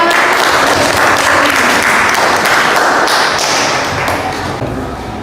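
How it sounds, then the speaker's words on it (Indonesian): Classroom of children applauding together, a dense, steady burst of many small hands clapping close by that holds for several seconds and gradually thins toward the end, with no talking over it. "Baik, tepuk tangan."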